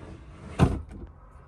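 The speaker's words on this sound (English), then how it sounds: "Our first larger drawer for big paint." A large art-cabinet drawer holding big fabric paint jars is pulled open, giving one short sliding rumble with a soft thud, close and fairly quiet, followed by faint settling rattles.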